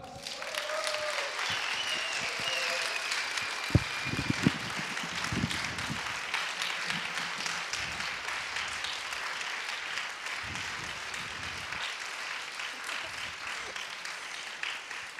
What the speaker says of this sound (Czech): velkým potleskem přivítejte poprvé ZAPPOS Praze a Jamie Naughton